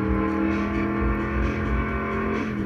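Car engine roar in the racing game Test Drive Unlimited, a steady loud drone with a pulsing low growl and no talking over it.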